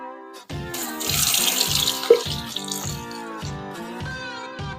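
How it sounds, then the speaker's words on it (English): A tap runs steadily into a sink while the face is wetted for shaving, a soft, close splashing flow with a rhythmic pulse and no talk. "So now we've got her cleaned out. Gonna wet the face."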